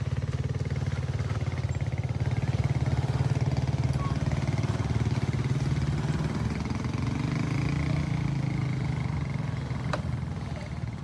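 Motorcycles climb a wooden slope, their engines droning steadily and loudly up close for the whole stretch, with a slight rise and fall in pitch as the throttle shifts.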